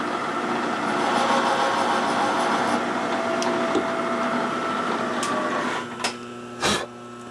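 A machine tool cuts steadily on a 1946 Harley-Davidson Knucklehead stroker engine part, a sustained grinding whir at an even level that stops near the end, followed by a few clicks and knocks.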